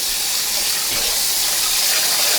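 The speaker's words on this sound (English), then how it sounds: "Now I'm gonna wash it again in cold water." Cold tap water runs steadily into a pot of two cups of rice during washing, a continuous close gushing splash with no talk.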